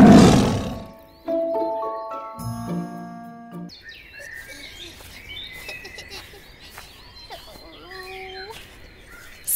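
In a children's audio story, a tiger gives a loud, brief roar at the start, followed by plucked musical tones and scattered bird chirps and tweets.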